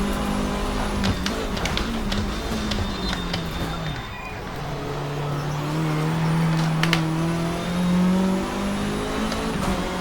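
A race car engine held in second gear revs steadily and loudly, its pitch dipping briefly and then climbing again, with a faint voice underneath.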